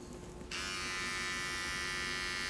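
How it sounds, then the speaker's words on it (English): Vibrator switching on after a brief quiet moment, then a steady, close electric buzz with a bright high-pitched hum that holds unbroken to the end. "It's a vibrator."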